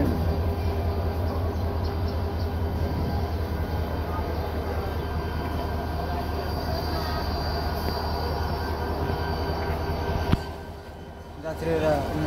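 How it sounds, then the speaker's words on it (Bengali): A passenger train rumbles into Shaistaganj railway station in Habiganj, a loud continuous roll of wheels and carriages heard from a bridge above the tracks, with a faint high squeal and a sharp clank near the end before the noise drops. "ট্রেন।"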